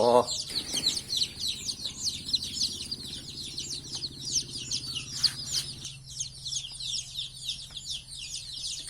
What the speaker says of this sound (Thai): ส่วนลูกไก่ก็ลงมาเรื่อยๆนะครับ